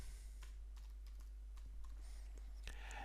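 Fingers typing a short search word on a computer keyboard, a string of quick close clicky keystrokes spaced irregularly over a steady low hum, no speech.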